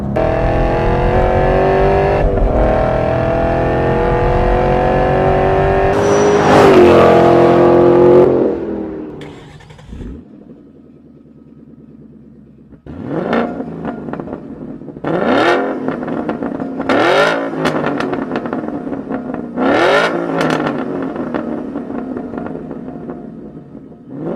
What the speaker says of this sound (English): Driving with this exhaust is just like playing an instrument.